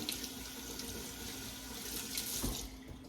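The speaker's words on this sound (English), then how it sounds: "I'm going to rinse my hands quickly" Hands are rinsed under a running kitchen tap, a steady soft stream of water with a brief splashy spike near the end, fairly quiet and with no voices.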